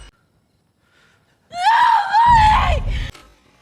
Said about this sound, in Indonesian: Di kamarnya terdengar suara teriakan